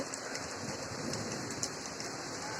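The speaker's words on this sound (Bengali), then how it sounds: "দেখেন বৃষ্টি কিন্তু পড়তেছে মোটামুটিভাবে জোরে বৃষ্টি হচ্ছে" Heavy rain pours steadily in Chittagong, Bangladesh, a dense continuous patter close by, with no voices.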